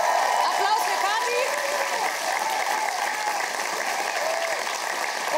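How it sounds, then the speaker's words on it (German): A studio audience at a German television comedy show applauds warmly in a steady, dense wash of clapping that tapers slightly toward the end, with a few voices audible beneath. "Applaus für Kathi."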